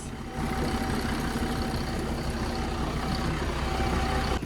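Steady, low engine drone of a bus on the way to Mount Buller, Australia, continuous and unchanging with a faint hum, no voices.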